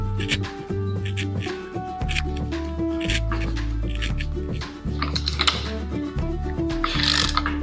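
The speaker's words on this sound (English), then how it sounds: "Grab our socket again." A socket wrench tightens the nut on the propeller of an ePropulsion Spirit outboard, giving close mechanical clicking over a steady low hum with no voices.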